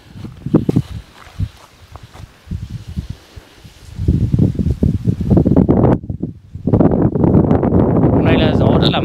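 Wind gusting across an 833-metre hilltop, rough buffeting bursts that strike the microphone in uneven waves, growing louder and steadier, under someone talking.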